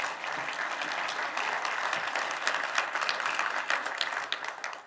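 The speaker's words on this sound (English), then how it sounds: "I hate it when people applaud me." Conference audience applauding a plenary speaker, a dense, steady roomful of clapping that swells slightly and then begins to taper.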